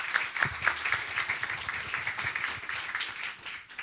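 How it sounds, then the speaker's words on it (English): Audience applause for a contestant at a live kids' competition event, a steady wash of many hands clapping throughout, moderately loud and continuous without a break. "please, a round of applause for Lindsay"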